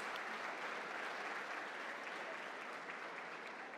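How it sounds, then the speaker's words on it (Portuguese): A church audience gives a round of applause, a soft, even patter of many hands clapping that holds steady, sounding somewhat distant and quiet with no talking over it. "Uma salva de palmas para essas duas gerações."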